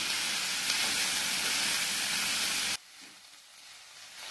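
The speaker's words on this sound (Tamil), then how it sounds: "இதை அப்படியே நல்லா வதக்கிக்கலாம்." Thick-cut chayote pieces sautéing in a pan give a loud, steady sizzle that cuts off sharply, leaving a quieter, fainter hiss for the last second and a half.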